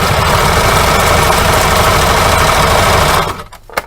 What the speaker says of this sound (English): Make sure it's aligned on this side of the presser foot, needle in the middle, back stitch